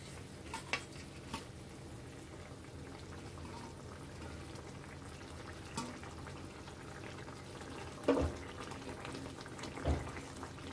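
Fish pieces go one at a time into a boiling yogurt sauce for Bengali dahi bata, with a steady low bubbling simmer throughout and a couple of brief splashy plops near the end.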